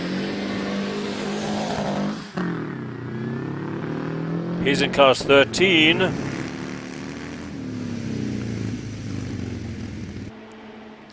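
A blown Riley Special pre-1941 racing car at a vintage Prescott hill climb accelerates away with a loud, rising engine note and several sharp gear-change bursts in the middle, heard under continuous commentary.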